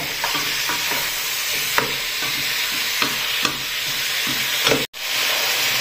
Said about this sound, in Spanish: vamos a esperar que se siga friendo un poco más